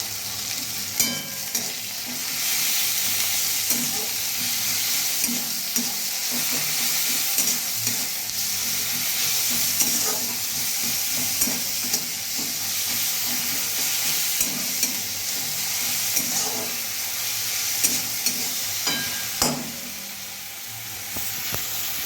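Tomatoes sizzle and fry in a hot pan with a continuous crackling hiss, occasional stirring clicks and scrapes punctuating the steady sound.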